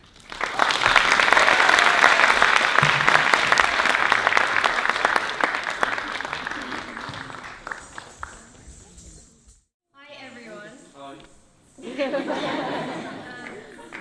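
Audience at a summer dance performance claps and cheers loudly for about nine seconds, the applause fading out, followed by quieter crowd noise and a fresh burst of clapping near the end.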